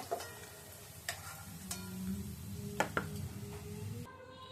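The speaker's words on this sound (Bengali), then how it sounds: "আলুগুলো তো ভাজা হয়ে গেছে এবার আলুগুলো তুলে নিই" Potatoes frying in a pan, a soft steady sizzle with several sharp clinks and scrapes as pieces are stirred and lifted out, fairly quiet overall.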